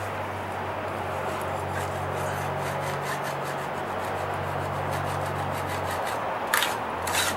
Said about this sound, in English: I want to spend this much time scraping it off